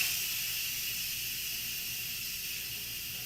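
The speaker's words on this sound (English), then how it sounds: "You want to be careful with that because that's a lot of steam, and steam heat, not good." Steam vents from a cooker in a continuous loud, even hiss that holds steady for the whole stretch, close by and with no talking over it.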